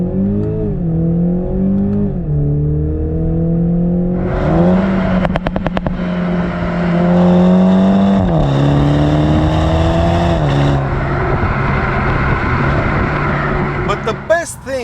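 A 2019 BMW Z4's turbocharged four-cylinder engine revs up through the gears, rising tones broken by sharp upshifts and brief crackles, loud and close, with someone talking over the drone.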